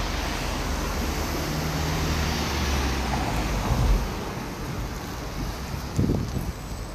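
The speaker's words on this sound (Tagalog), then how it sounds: "So windy." Strong wind blows outdoors on a stormy British day, buffeting the microphone with a loud, continuous low rumble and occasional gusting thumps, while road traffic passes in the background.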